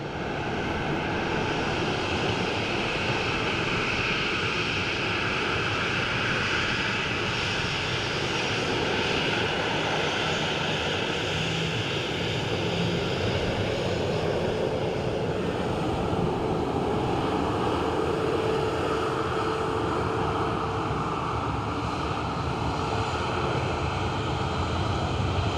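An airliner arriving from Zurich at Dublin Airport produces a steady, loud engine roar that holds broadly constant, like a continuous rushing drone from fairly close by.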